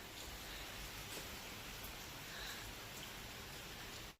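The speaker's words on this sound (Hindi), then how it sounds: "बहुत तेज बारिश हो रही है।" Heavy rain pours steadily on a Sunday morning outside a home, a dense, even hiss that holds at the same level throughout with no voices.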